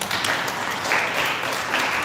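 At a mental health awareness foundation event, an audience applauds the founder, an engineer, with loud, continuous clapping from many hands close by.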